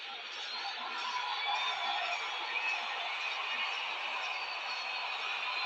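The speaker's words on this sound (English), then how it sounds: "The crowd is getting into it, trying to help out their team." A baseball stadium crowd roars steadily through a tense two-strike count in a Padres–Astros game, a dense, continuous wash of distant cheering that holds at an even level without breaks.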